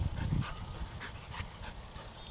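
A retriever in training pants in quick, soft breaths close by, with a brief low whimper at the start and no talking.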